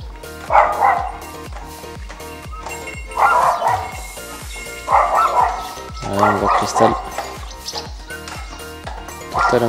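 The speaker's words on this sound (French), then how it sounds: "avec les chiens qui aboient" Several dogs bark in repeated bursts in a village, some close and loud, with yips mixed in; a person talks between the barks.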